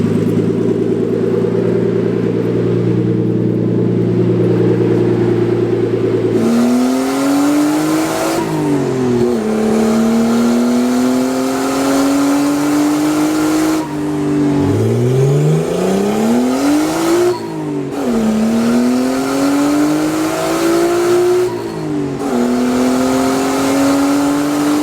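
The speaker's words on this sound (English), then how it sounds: "I'm gonna take it for a test drive." Turbocharged car engine revving hard on a test drive, loud and close, with repeated rising pulls through the gears, a brief drop between each shift, and no talking.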